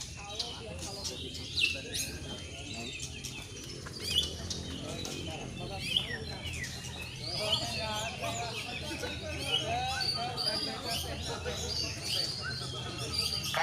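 Adult white-rumped shamas sing at a bird song contest, with loud, varied whistles and chirps running throughout and other birds calling among them. Crowd chatter goes on underneath.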